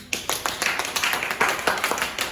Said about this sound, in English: give him a round of applause to welcome him